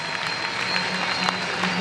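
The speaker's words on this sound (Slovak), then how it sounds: "Veľký potlesk pre túto velikánsku skupinu s číslom 6." Applause from a convention crowd greets a Lord of the Rings themed cosplay group on stage at a comics convention parade, a steady wash of clapping filling the short moment without pause.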